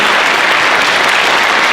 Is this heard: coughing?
no